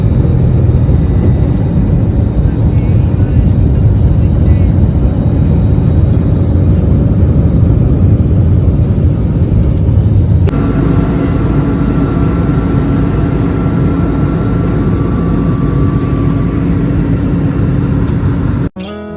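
A loud, steady aircraft engine roar fills the cabin during takeoff on a Chennai to Nepal flight, with the pitch shifting partway through as power changes, then cutting off abruptly at the end.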